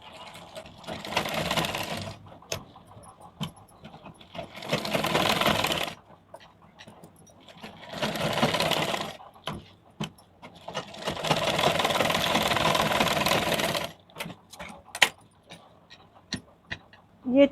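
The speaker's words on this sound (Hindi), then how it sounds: "फिर उसके बाद हम ये कटिंग करके सब निकाल देंगे, जो एक्स्ट्रा कपड़ा बच रहा है किनारे। इस तरह से हम चारों तरफ सिलाई करेंगे।" A sewing machine stitches all around a blouse lining in bursts of steady whirring, four long runs separated by pauses filled with small clicks and fabric handling, close and clear.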